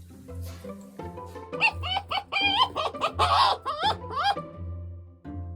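Excited high chattering and whining calls from a young tame fox, in rapid rising and falling bursts, close by and fairly loud, with no talking.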